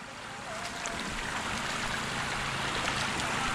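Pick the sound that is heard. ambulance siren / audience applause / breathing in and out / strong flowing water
strong flowing water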